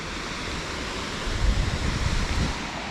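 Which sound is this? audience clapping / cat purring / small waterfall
small waterfall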